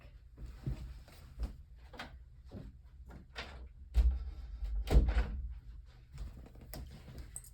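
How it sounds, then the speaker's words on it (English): A house door is shut at home in the evening, giving a few dull thunks and knocks at close range amid quiet room noise, with no talking. "I'm going to close the door really quick"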